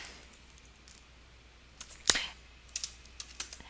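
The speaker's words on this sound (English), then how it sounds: "And I'll go ahead and finish typing products there." Soft, quiet keystrokes tap on a computer keyboard in short irregular bursts, with one louder click in the middle.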